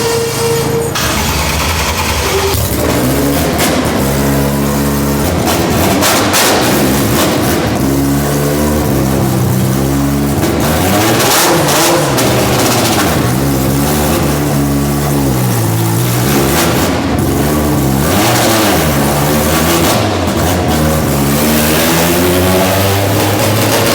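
An all-motor Honda EG with a K-series engine on nitrous roars on a dyno, revving hard through repeated climbing and falling sweeps, very loud and close, continuous for the whole stretch with no talk.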